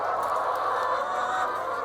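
Hens in a free-range multi-tier system make a dense, continuous chorus of overlapping clucks and calls, a steady barn-wide murmur with no single bird standing out.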